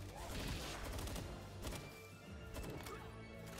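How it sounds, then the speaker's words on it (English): Gunfire in the Palworld video game, dense rapid shots blending into a continuous noisy barrage with loud bursts throughout, under game sound effects. "Maybe if we shoot enough bullets at this, we can take it down?"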